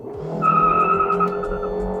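A 1996 Honda Civic Ferio accelerates hard with wheelspin, the engine revving loudly while the tires squeal in a sustained, close whine that holds for about two seconds.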